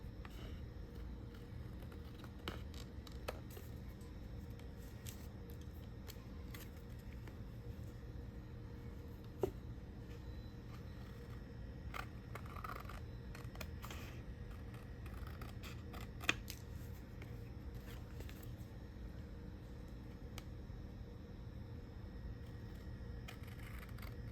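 Scissors trimming the excess cardboard off a Hot Tamales candy box, a steady run of soft close snips and rustles over a low, constant background hum, with a couple of sharper clicks and no talking.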